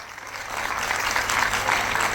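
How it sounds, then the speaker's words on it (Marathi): Audience applause for the parents at a cultural event, a sustained crowd clapping that swells and stays dense throughout, moderately loud with no talk. "जरा जोरदार टाळ्या झाल्या पाहिजेत आई बाबांकरता"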